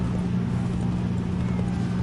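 Horse hooves gallop in Assassin's Creed 3, a fast, steady clip-clop rhythm over a low rumble. The sound is continuous and fairly close throughout the short moment.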